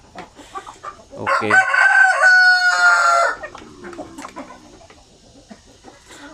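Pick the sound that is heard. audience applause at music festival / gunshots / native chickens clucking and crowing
native chickens clucking and crowing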